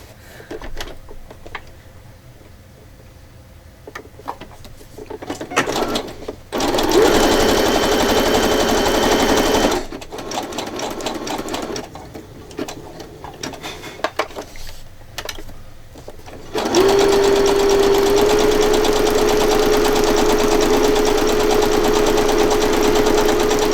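A sewing machine runs a zigzag stitch in loud close bursts separated by pauses, each run a dense rapid mechanical rattle with a faint motor whine, no speech.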